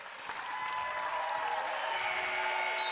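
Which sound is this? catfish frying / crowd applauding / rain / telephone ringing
crowd applauding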